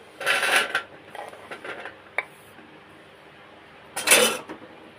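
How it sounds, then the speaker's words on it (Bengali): Cut mango pieces are set onto a metal plate in a kitchen, several clattering metallic clinks and scrapes in short bursts, with a single sharp tick between them. "আমগুলো সব কেটে নিয়েছি, একটা থালায় তুলে নেব।"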